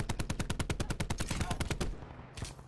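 Rapid sniper and automatic gunfire in Call of Duty Black Ops 4 on the Alcatraz map, a dense burst of sharp, evenly spaced shots for nearly two seconds before the firing stops, with one more distant shot after.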